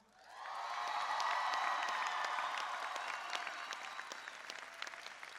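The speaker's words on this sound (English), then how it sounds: "Let's hear a big cheer for all of you." University of New Haven 2014 spring commencement crowd of graduates bursting into sustained loud applause and cheering, swelling quickly and then holding steady with scattered claps and whoops.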